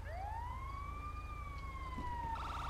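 An ambulance siren in a video game wails in one long rising and falling sweep, then shifts to a faster pulsing tone near the end, over a steady low engine rumble.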